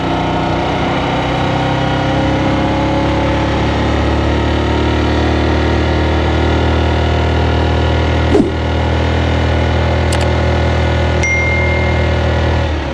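A motorcycle engine drones loudly while riding, a constant close rumble blended with wind roar, broken by a brief knock and faint high ticks, with no talk.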